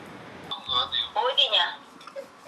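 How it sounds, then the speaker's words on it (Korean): A phone rings with a short electronic trill near the listener, and a person speaks over it. "아들한테 전화가 옵니다."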